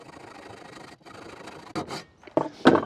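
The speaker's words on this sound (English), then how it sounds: "let's see if we can cut one of these edges off" An edge is cut off by hand with no grinder during a solar pump install, a steady low rasping that breaks into several louder, harsher strokes toward the end, close by with no talking.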